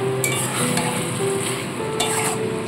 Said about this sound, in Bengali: ভেজে রাখা পটলগুলো দিয়ে ভালো করে মশলার সাথে এরকমভাবে মিশিয়ে নিতে হবে